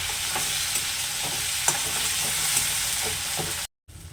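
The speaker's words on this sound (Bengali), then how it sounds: "নুনটা দিয়ে মশলাটা ভালোভাবে একটু ভেজে নেব" Spice masala for catla fish fries with salt in a pan over low flame, giving a continuous close sizzle under repeated scraping stir strokes. A short gap of silence falls near the end.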